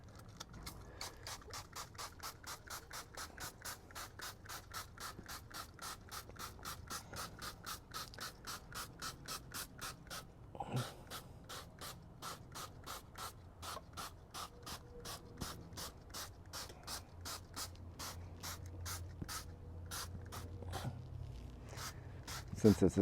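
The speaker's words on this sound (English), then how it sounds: "We'll go ahead and spray this on here." A trigger sprayer pumps P&S Brake Buster tire cleaner onto a car wheel, a long run of rapid, regular clicking squirts close to the mic, with a brief pause and a clunk partway through and a voice under it.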